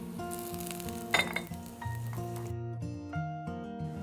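Tempeh pan-fries in a sizzling pan with a steady crackle, joined by clinks of a utensil against the cookware and a few tonal ringing tones over the frying, with no voices.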